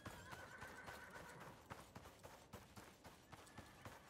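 Horses in the desert of the video game Icarus whinny and gallop, with rapid clip-clop hoofbeats and a drawn-out neigh over steady game ambience, fairly close and continuous.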